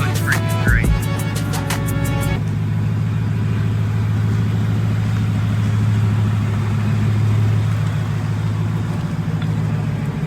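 A Ford Raptor with a swapped-in Hellcat V8 idles with a deep, steady low rumble at close range, a short burst of other sounds at the start, then the even engine drone continuing alone.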